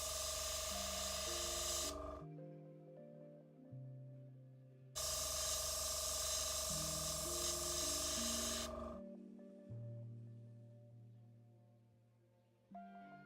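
Airbrush run at 15 PSI spraying paint onto Dark Angels Warhammer 40k miniatures, giving a close, bright hiss in two long bursts separated by quieter pauses, alone without talk.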